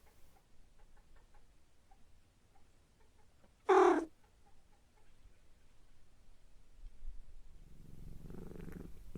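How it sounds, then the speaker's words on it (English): A cat in a video game purrs faintly after being given catnip. Besides the soft purr there is one brief, louder cat-like call near the middle, and no voices. "Should be able to hear the cat purring if you listen closely."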